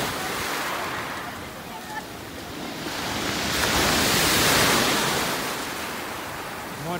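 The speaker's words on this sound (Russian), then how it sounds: "Море волнуется немного." Black Sea waves breaking on the shore at Sochi on a calm, warm November day, a continuous wash of surf that swells and recedes, close and fairly loud, with light wind rumble on the microphone.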